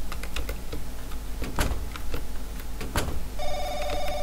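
An in-game telephone rings in the horror game The Crooked Man: repeated bright electronic ring bursts over clicky keyboard-like tapping and low background hum, loud and close, with no talking.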